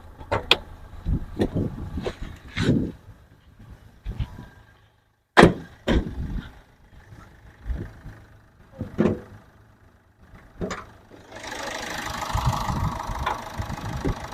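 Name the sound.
Toyota Etios diesel car engine idling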